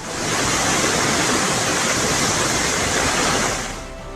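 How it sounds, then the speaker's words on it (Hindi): Rushing floodwater in Rawalpindi, Pakistan roars as a loud, dense, unbroken wash of water, constant for several seconds before easing at the end. "हर तरफ तेज पानी की धारा है।"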